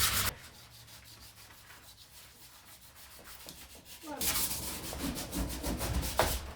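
Sanding over a transferred design on thrifted home decor makes a soft rubbing scratch, faint at first and then louder and steadier in quick back-and-forth strokes.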